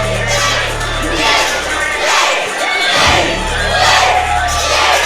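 A large wrestling crowd roars and cheers continuously, with whoops and yells swelling in waves, loud and close, filling the whole arena.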